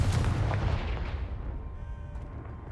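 A Confringo spell blast in the video game Hogwarts Legacy, a loud heavy boom that starts at full force and slowly rumbles away over a few seconds.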